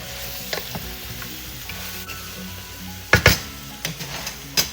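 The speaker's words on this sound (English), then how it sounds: "as we're still in the sauteing process to make sure our veggies get cooked up evenly" Vegetables sautéing in a pan for kare-kare oxtail peanut stew, a low steady sizzle with soft stirring scrapes and a few louder clatters of the utensil against the pan near the end.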